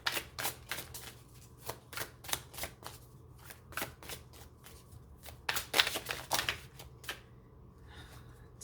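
Tarot cards being shuffled by hand, a steady run of crisp riffling flicks and soft slaps, close and fairly quiet, with no talking.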